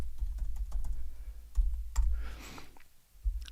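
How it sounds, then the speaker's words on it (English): Someone types on a computer keyboard, and a quick burst of light key clicks and taps sounds up close, with a low rumble beneath and no voices. "I will just type."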